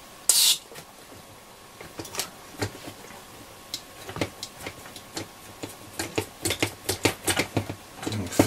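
A small screw being turned into the keyhole of a tone control on a Hacker Super Sovereign RP75 transistor radio, heard as a series of close, sharp ticking clicks that grow denser toward the end, after one brief loud burst at the start.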